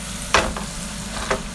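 Shrimp stir-fry in a hot pan, giving a steady close sizzle with two sharp scrapes or clinks of a utensil stirring.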